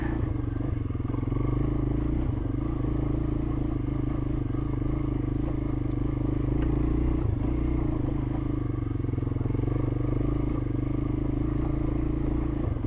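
A Honda NX250 motorcycle grinds up a rocky trail in first gear, its engine a steady low drone with faint clatter from the rough ground, heard continuously and close throughout.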